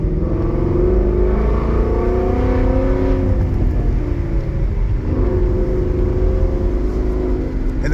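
Ford Mustang 5.0 V8 engine revving and climbing through gears with paddle shifters, a loud steady roar whose pitch rises and falls across shifts, continuous and close.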